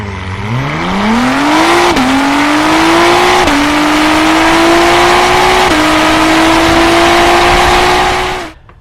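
Tuned car on 93 octane launching down a drag strip, engine roaring loud and close as revs climb steadily through three quick gear shifts before cutting off at the end.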